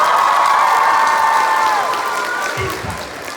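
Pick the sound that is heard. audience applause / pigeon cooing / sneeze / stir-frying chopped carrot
audience applause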